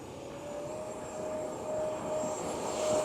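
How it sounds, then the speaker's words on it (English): An RC B-2 Spirit model jet flies nearby with a steady, loud turbine roar and a thin high whine that swells slightly over a few seconds. "Let's get this B-2 in the air"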